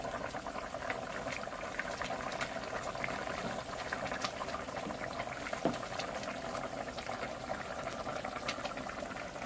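Fish curry bubbles steadily in a pot, a continuous soft simmering hiss with occasional small pops and clicks, close by and without talk.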